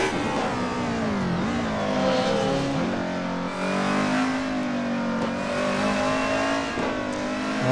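A Group A DTM race car at the Nürburgring in Assetto Corsa revs hard and accelerates, with a loud, steady engine drone whose pitch climbs and dips through gear changes.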